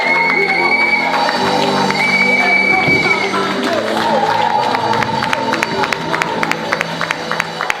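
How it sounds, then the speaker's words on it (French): Congregation at a pastoral consecration service claps and cheers loudly, with shouts and whoops over a crowd roar, and sharp rhythmic clapping emerges as it continues. "J'aimerais que vous puissiez applaudir, tonnerre d'applaudissements pour l'homme de Dieu."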